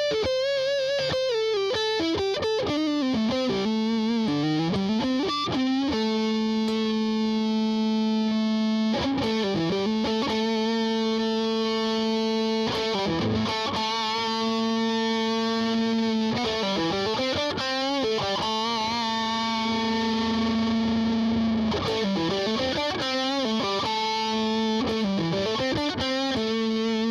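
Kramer Pacer Classic FR electric guitar played through heavy distortion, sustained chords and bending notes ringing loud and close, with phrases pausing and restarting throughout and no talking.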